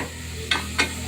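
Masala for egg biryani fries in a pan, with two quick scraping stirs cutting through a soft, continuous sizzle.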